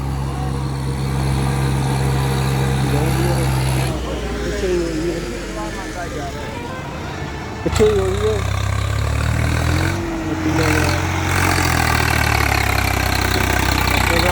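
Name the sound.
tractor engine running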